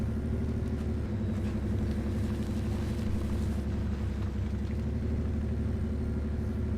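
A fuel truck engine in Spintires: Mudrunner gives a constant low, heavy rumble, loud and steady without pause, with no voices over it.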